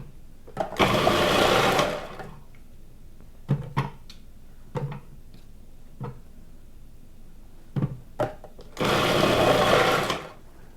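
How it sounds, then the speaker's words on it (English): A food processor fitted with a cheese grater attachment rices cauliflower in two loud, steady whirring bursts at the start and end, with scattered knocks and clatter between them. "if you have a food processor that has a cheese grater attachment, this works beautifully"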